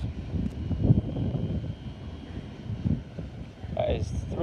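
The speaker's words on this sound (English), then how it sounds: "the wind today is horrendous" Gusty wind buffets the microphone at a Cambridge railway station, a steady rumbling roar with surges, while distant train engine noise builds toward the end.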